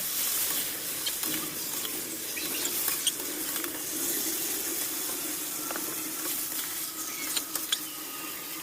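Meat fries in a pan as it is stirred and browned, a steady hissing sizzle close by with occasional utensil knocks and no talking.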